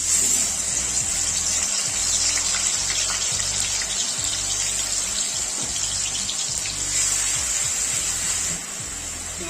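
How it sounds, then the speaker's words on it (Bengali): Onion paste sizzles in hot oil in a wok, a steady bright hiss and crackle that continues throughout, close and even, easing slightly near the end. "পেঁয়াজটা ভেজে নেবো একটু ভালো করে"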